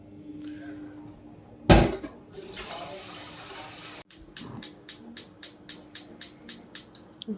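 Tap water runs into a cooking pot for boiling macaroni in a home kitchen, a steady rushing stream with a loud clunk partway, followed by a series of rhythmic tapping knocks; faint talk underneath.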